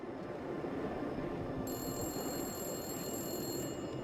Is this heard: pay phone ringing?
yes